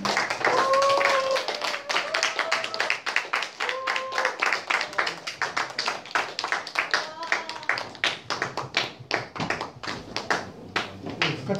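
A church youth group claps to welcome a newcomer, with scattered, uneven handclaps that thin into individual claps, and voices talking over the start.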